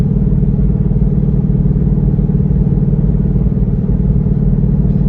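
Twin turbo 2020 Shelby GT500 engine droning steadily while driving, a loud, continuous low rumble with even throb that holds without letup from inside the car.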